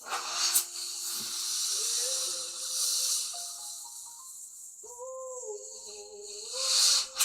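An airbrush, the kind used for painting a guitar, releases a soft, steady hiss of air close by. It fades in and out with a few short bursts, and a faint tonal whine wavers underneath.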